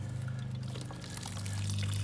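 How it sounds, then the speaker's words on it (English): Water is poured into potting soil while repotting a Monstera plant, giving a steady, soft, close pouring sound with a low hum underneath and no talking. "Get a little more water in there."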